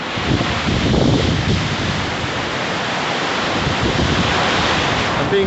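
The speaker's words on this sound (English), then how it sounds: "I'm being rained on." A wind storm roars steadily with heavy gusting and rain, loud and constant, and no one speaks.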